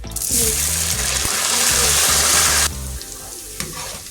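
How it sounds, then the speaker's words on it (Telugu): Potatoes frying in hot oil for a kudra curry make a loud, steady sizzle close up that cuts off abruptly, leaving quieter kitchen clatter and faint bubbling. "బంగాళదుంపలు కూడా బాగా వేగిపోయినాయండి తీసేస్తున్నాను"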